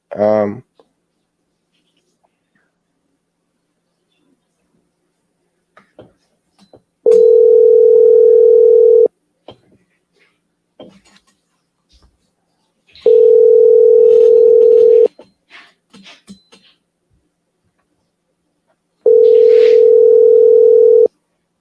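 Telephone dial tone sounds in three steady, loud bursts of about two seconds each, separated by quiet gaps with faint handling clicks, while a radio host calls back a caller.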